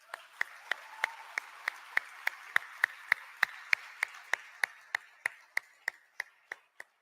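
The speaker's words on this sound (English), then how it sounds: "You all deserve an applause for that." Audience at a scouting conference claps in rhythmic unison: about two dozen crisp, evenly spaced claps in a steady beat, gradually slowing and fading at the end.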